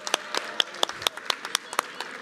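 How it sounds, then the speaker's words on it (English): Sparse, distinct handclaps from a small group at a resource providers gathering, thanking table guides; a dozen or so crisp individual claps in an uneven rhythm, fairly quiet and brief. "let's give our table guides a round of applause for supporting our work today."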